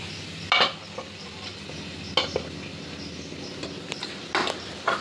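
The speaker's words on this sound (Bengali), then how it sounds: "এই হচ্ছে আলু ভাজা" Potatoes frying in a pan under a low, even sizzle, broken by several sharp scraping and clinking stirs of a utensil against the pan at irregular intervals, heard up close with no speech.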